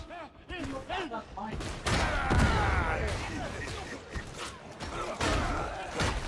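Grenade blasts and gunfire ring out in the Warhammer 40,000: Darktide game, with bursts of shots and a heavy explosion rumbling under overlapping voices of characters and players talking.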